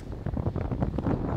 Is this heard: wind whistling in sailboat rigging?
yes